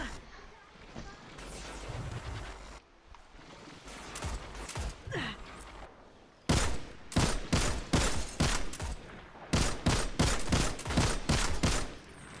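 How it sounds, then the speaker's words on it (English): Vex enemies firing lasers in the video game Destiny 2, a run of sharp rapid energy blasts in bursts that grow denser and louder toward the end, with a person breathing and gasping in between. "What just shot a laser at me?"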